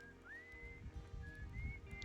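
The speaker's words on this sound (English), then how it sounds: "Oh, I can hear whistling too." Whistling from the Outer Wilds game world, a thin wavering tone drifting in and out over a low rumble of game music and ambience, faint and brief.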